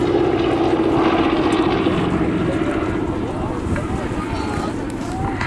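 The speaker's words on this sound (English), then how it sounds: "Nothing better than to see a solo big piston engine fighter on a day like this." A P-47 Thunderbolt piston-engine fighter flying at the Southport airshow in 2019, a loud sustained engine drone with wind buffeting, fading slightly as it passes, with an announcer talking over it.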